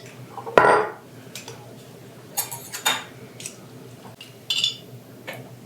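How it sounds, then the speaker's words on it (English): Canned pumpkin tipped out of the can into a glass jar in a kitchen: one loud, wet thump and clatter, then several lighter clinks and scrapes of metal against glass. "We're gonna dump that pumpkin in."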